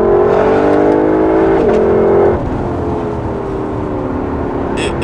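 A Lexus LC500 Convertible engine revs high then drops as it shifts, settling into a lower steady hum, loud and close.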